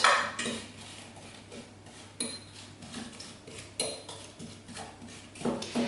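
Rhubarb and strawberry being mixed in a pan, a few close scraping and clinking utensil strokes against the pan at irregular intervals, quiet between strokes, with no talking.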